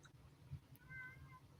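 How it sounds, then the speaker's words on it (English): A pet cat gives a single drawn-out meow in the middle of the moment, fairly faint and heard indoors over a low background hum, with no talking during it. "Apparently my cat's disagreeing now."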